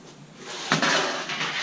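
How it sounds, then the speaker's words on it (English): Plates are set down beside a wood-fired oven during home bread baking, giving a short ceramic clatter and knock partway through, with lighter handling noise before and after. "I place those plates here so that the plastic is not in contact with the heat."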